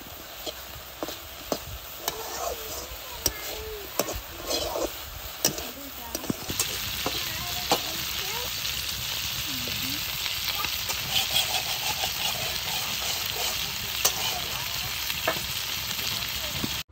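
Dried chillies and onions sizzle steadily in hot oil for Bangladeshi bhorta, with scraping stir strokes and clinks at the start, and the frying grows louder and denser after the opening seconds, with no one speaking.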